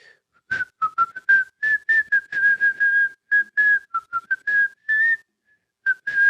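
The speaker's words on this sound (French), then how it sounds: "je sifflote parce que je cherche mes pages" Someone whistles a wandering tune in short, choppy phrases with brief gaps, close and clear with no talking.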